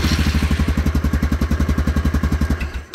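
A motorcycle in first gear cranking over with a rapid, steady chugging pulse for almost three seconds, fairly loud and close, fading out near the end without clearly catching.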